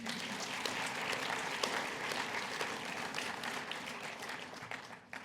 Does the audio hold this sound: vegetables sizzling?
no